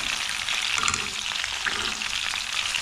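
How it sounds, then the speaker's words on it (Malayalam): Hamour fish sizzling and frying in a pan, a steady close crackle of hot oil running unbroken throughout with no talk. "ഈ ഫ്രൈ നന്നായിട്ട് വരും വൺ സൈഡ് നല്ലോണം ഫ്രൈ ആയിട്ടുണ്ട്"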